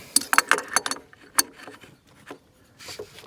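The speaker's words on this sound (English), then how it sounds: "I'll use the crescent wrench here to tighten that up" Crescent wrench tightening a fuel filter fitting makes a run of quick metallic clicks and scrapes, then a few sparser clinks and rubbing sounds, close by and fairly quiet.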